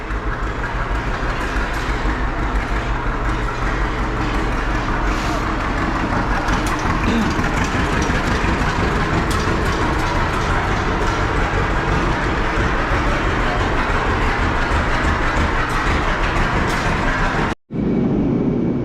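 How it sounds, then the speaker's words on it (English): An old John Deere A tractor engine runs steadily and loudly for about eighteen seconds, a dense low rumble that cuts out abruptly near the end and then briefly resumes. "I hear a putt-putt."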